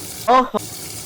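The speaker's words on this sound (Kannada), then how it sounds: "ಇಲ್ಲೊಂದು ಪೈಪ್ ಇದೆ ಇಲ್ಲಿಂದನೂ ನೀರು ವಾಪಸ್ ಹೋಗುತ್ತೆ" Water running out through the drain pipe of a mini washing machine, a short gush of under half a second followed by a brief second spurt, then quiet.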